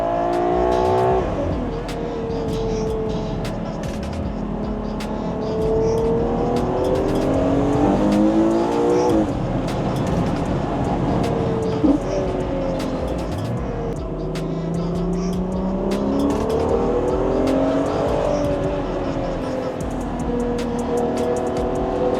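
A loud Ferrari Purosangue SUV engine revs and pulls hard through rising and falling pitch sweeps, with throaty exhaust roar, intake sound and occasional crackles, close and sustained.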